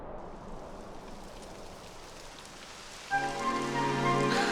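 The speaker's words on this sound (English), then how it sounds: "It would have to go and start raining, wouldn't it?" Rain begins falling in Dragon Quest XI S on the Switch: a steady, close hiss of rainfall, joined partway through by sustained tonal game music.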